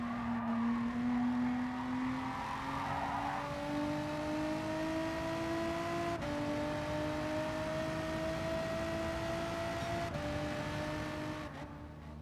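A Gr.3 race car in Gran Turismo 7 laps Brands Hatch with a steady, continuous engine drone whose pitch climbs slowly through the gears, interrupted by a couple of brief shift breaks.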